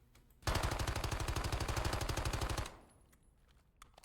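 An MX9 gun in a video game fires one long, loud full-auto burst of rapid, evenly spaced shots for about two seconds, then cuts off into quiet with a few faint clicks.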